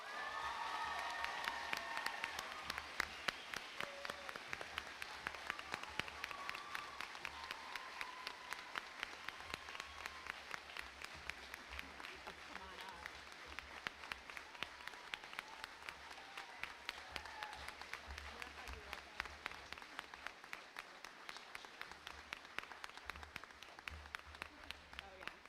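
Sustained audience applause fills a commencement ceremony for a class of 2026 graduating in Tupper Lake, honoring a middle and high school art teacher. Dense clapping stays steady and fairly loud throughout, with a few scattered cheers mixed in.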